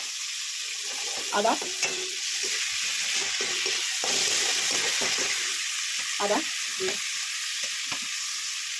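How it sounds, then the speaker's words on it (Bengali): Small pieces of chopped tomato hiss and sizzle in hot oil in a pan for a home-style egg tarka, while a spatula scrapes and stirs in short bursts over the steady frying. "এবার আমি টমেটো মেশাবো"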